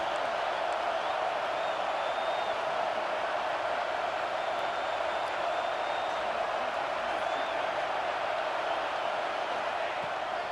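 Stadium crowd in EA Sports College Football 26 during a Nebraska game on a big third down in the red zone, a steady, loud roar of cheering that holds without break throughout.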